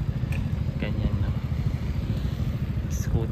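A scooter motor buzzes past on a riverside street along the Rhône in Lyon, a moderate, fairly close engine sound mixed with general street noise throughout.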